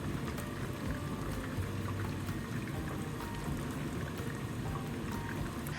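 Steady dense crackling and sizzling of chicken pieces frying in shallow oil, continuous and close, with no voices.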